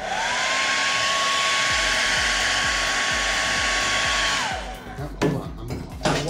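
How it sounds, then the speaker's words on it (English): A hair dryer blows steadily at close range with a loud rushing whine on vinyl wrap on a vending machine, then cuts off, leaving a few handling clunks and rustles. "I just got a common hair dryer."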